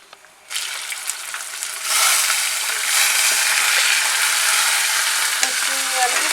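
Chunks of liver hit a hot pan and fry over medium heat with a steady, close, bright sizzle that swells louder as they are stirred, with occasional soft scrapes and no talking.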